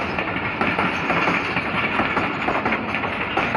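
The Millat Express, a Pakistan Railways passenger train, rolls by close up with a loud, steady rumble and rhythmic clatter of wheels over rail joints, and no voices are heard.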